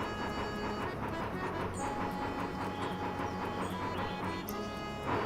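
A train in Bounty Train rolls along rails with a steady rhythmic clickety-clack and a constant low rumble, moderately loud and unbroken, with no talking.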